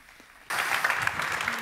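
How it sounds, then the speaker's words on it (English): Audience applause for guests at a mobility-as-a-service conference session, a sudden burst of clapping that starts after a brief quiet moment and continues steadily and fairly loud. "a big round of applause for our guests"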